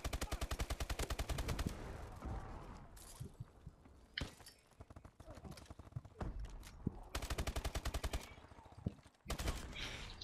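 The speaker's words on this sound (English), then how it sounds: "Whoa, shotgun." Rapid bursts of gunfire in Call of Duty Advanced Warfare, loud strings of shots at the start and again near the end with scattered single blasts between, under occasional talk.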